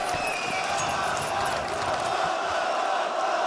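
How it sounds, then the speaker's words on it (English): An esports arena crowd at the PGL Astana 2025 playoffs roars after a kill in a Counter-Strike match, a steady loud wash of cheering with no pause. "every single kill, get used to hearing the crowd roar"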